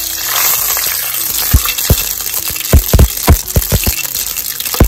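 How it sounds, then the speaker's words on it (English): Curry leaves and chili popping in hot oil, sharp irregular crackles and pops over a steady hiss of frying, close and loud, with no talk. "The curry leaves pop along with our chili."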